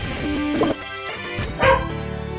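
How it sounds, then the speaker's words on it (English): Small dogs yip and bark in a few quick bursts, with whimpery high-pitched tones, fairly close. "I'm sorry if you can hear my puppies barking."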